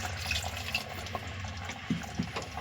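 Water runs and splashes into a pot used for grinding masala, a soft continuous pour with a couple of small clinks, close and fairly quiet.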